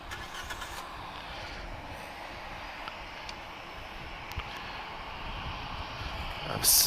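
A Ryanair Boeing 737-800 at Lisbon Airport produces a steady, distant jet engine rumble and whine that holds at a moderate level throughout, with faint outdoor background noise.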